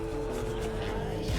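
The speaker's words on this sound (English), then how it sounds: "Motor sounds good." An all-original 1969 Chevy Camaro engine idles steadily nearby with a low, even rumble, no voices.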